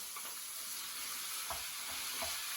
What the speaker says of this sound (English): I'm going to add my sweet onion to get a little bit of caramelization. And then I'm also going to add my ground beef.